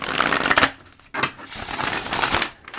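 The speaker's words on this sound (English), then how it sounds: "the first shuffle was a disaster. That is so embarrassing. Let's try that again." Tarot cards are shuffled up close in three quick riffling bursts, each a crisp papery flutter, with brief gaps between them.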